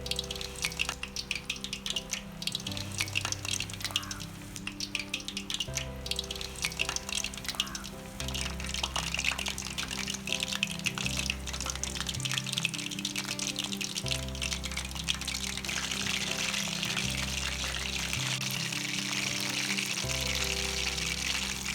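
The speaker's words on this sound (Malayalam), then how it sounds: "ലോലിപോപ്പ് മാവിൽ മുക്കിയിട്ട് വെച്ചേക്കുന്ന ലോലിപോപ്പ് ഇതിനകത്തോട്ട് ഇട്ട് കൊടുക്കാം. നല്ല ചൂടായിട്ടുണ്ട്." Batter-dipped lollipops sizzle in hot oil, a steady bright frying hiss running throughout over a low continuous hum, with no voices.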